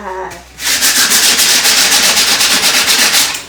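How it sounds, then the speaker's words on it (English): Steady rhythmic scraping of sandpaper rubbed back and forth by hand over a decoupaged suitcase, close and loud, with quick even strokes after a brief quiet start. "so I like to sand it to take the rough edges away"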